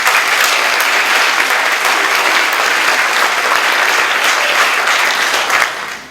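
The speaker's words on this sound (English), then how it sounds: "Please give a round of applause" Loud, sustained applause from a large crowd, steady clapping that continues for several seconds before starting to fade at the end.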